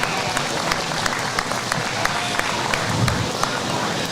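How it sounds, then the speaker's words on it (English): Audience at a county fair sheep show claps for the young exhibitors, a steady ring of many hands with individual claps standing out, mixed with faint voices and some low thumps nearby. "Let's go ahead and give all these young people a big round of applause"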